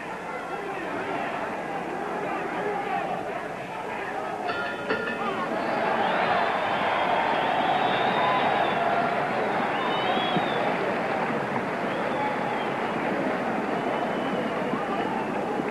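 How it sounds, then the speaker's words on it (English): Boxing crowd roaring at a 1966 Las Vegas title fight, Jose Torres against Eddie Cotton in round 13, a dense sustained swell of cheering and yelling that grows louder midway and stays loud throughout. "Well, the crowd is roaring."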